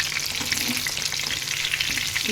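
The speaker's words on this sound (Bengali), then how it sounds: "অন্য সাইডে ম্যারিনেট করে রাখা চিলি চিকেনগুলো আমি একটা ফ্রাইং প্যানের মধ্যে হালকাভাবে ভেজে নিচ্ছি" Marinated chilli chicken fries lightly over low heat in a frying pan, giving a steady, close hiss and crackle of sizzling oil with no talking.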